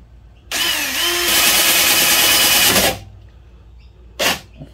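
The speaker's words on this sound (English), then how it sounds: "we pretty much just have to drill a whole bunch of holes and put rivets in it" A power drill bores a rivet hole in a vehicle snorkel plate, giving a loud two-second whirring grind that rises as it bites. A short second burst of the drill follows after a pause.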